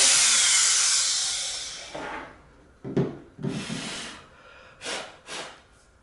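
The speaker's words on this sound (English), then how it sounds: "Just kind of blowing it off, make sure if there's any powder, try to blow any powder or residue out." Breath is blown hard into a Samsung Galaxy S3 phone to clear out powder and residue: a loud, close rush of air for about two seconds, then several shorter puffs and rubbing handling noises.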